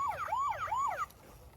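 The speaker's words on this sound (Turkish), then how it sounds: "Oo polis arabası oldu galiba." A toy police car siren wails in a quick repeating up-and-down pattern for about a second, then cuts off abruptly, leaving faint background noise.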